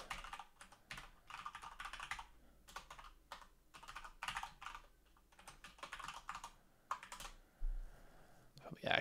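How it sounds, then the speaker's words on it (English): Fast, close clicking on a computer keyboard comes in short bursts separated by brief pauses, fairly quiet and without voices. "If I remember how to type."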